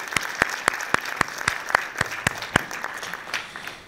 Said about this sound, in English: I just want to do an absolute round of applause for the committee